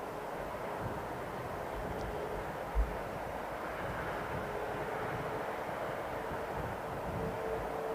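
A KLM Boeing 737 at London Heathrow roars steadily at a distance, a broad, sustained jet rumble that holds level throughout with no voices over it.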